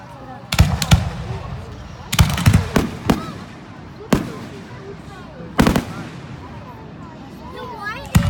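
Fireworks exploding at a 2018 middle school display in Dover, several sharp booming bursts spaced a second or two apart, some in quick clusters, with people talking between them.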